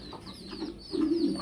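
Large fancy pigeons coo in low, soft bursts at close range, one throaty coo swelling near the end, faint and without talk.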